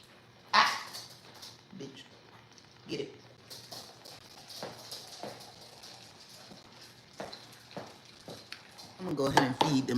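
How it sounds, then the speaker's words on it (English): Dogs being fed in a home kitchen, with bowls and dishes clattering in scattered knocks and a short burst near the start, plus a louder rattling flurry at the end, under light talking and household movement. "Let's give the dogs some food, shall we? They look like they're starving."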